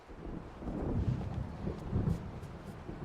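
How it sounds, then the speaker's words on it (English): Low rolling thunder rumbles through an approaching storm in the video game Alan Wake, two broad swells of deep rumble over a steady windy bed, moderately loud and with no voices. "It seems there's a storm coming."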